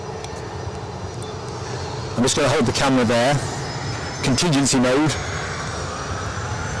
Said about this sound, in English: I'm letting the departure go that is holding us at the minute. You can probably hear that